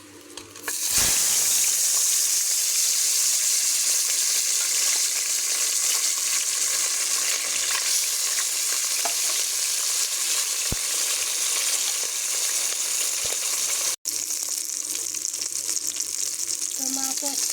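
Tilapia fish frying in hot oil in a pan, a loud continuous sizzle that runs almost unbroken, with a brief dropout near the end and faint clinks of handling.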